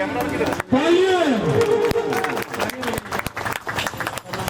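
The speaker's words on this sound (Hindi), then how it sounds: "तालियां।" A crowd claps at a Vishwakarma Puja stage event, with scattered uneven applause and crowd babble under a loudspeaker voice and ringing tones.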